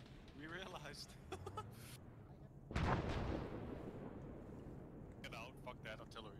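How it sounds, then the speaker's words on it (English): A heavy artillery blast in a war video game lands with one loud boom and a long rumbling decay, with voices chatting before and after. "Get out, fuck that artillery."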